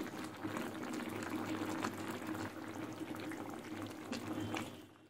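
Paneer goes into a pan of simmering mixed vegetables, giving a steady bubbling, liquid boil that holds at an even level close by with no voices throughout.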